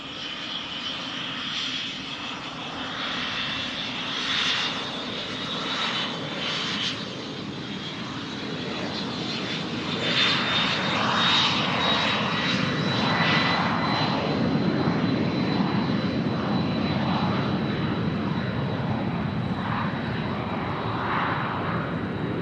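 A small propeller plane lands on wet runway 16R at Van Nuys in the rain, its engine droning steadily and growing louder over about twenty seconds, with a faint rising whine.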